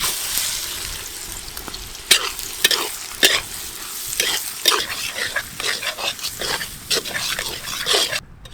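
Finely chopped onions fry in cooking oil for a village-style Kolhapuri mutton dish, a steady close crackling sizzle broken by sharp scraping stirs of a spoon against the pan.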